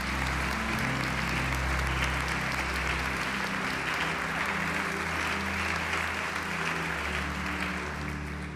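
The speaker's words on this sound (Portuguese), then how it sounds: "Pode aplaudir e glorificar o Senhor Jesus." Church congregation applauding during a Portuguese-language sermon, sustained dense clapping from a large room of people, steady and full throughout, with a low organ or keyboard chord humming underneath.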